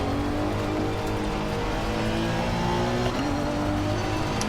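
Honda NSX GT3 race car on a warm-up lap at Catalunya in Assetto Corsa Competizione, its engine a steady, close droning whine that dips and climbs again through a gear change partway along, with no talking.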